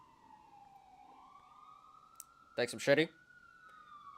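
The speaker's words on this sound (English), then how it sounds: "Sorry about the sirens," Emergency vehicle sirens sound outside, a single steady wailing tone that slowly rises and falls throughout, faint and distant, with someone speaking briefly over it partway through.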